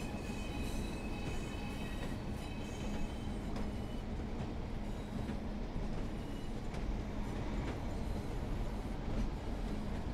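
A Pacer train in the Train Sim World 4 game, Blackpool branch line, rumbling steadily with a high metallic wheel squeal that rises and fades in drawn-out bursts over the continuous rolling noise.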